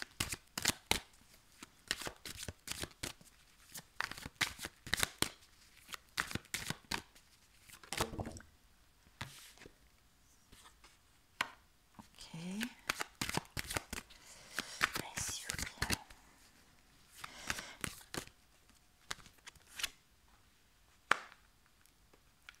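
Tarot cards shuffled close by in bursts of quick riffling and slapping, with pauses between, while someone speaks softly over them.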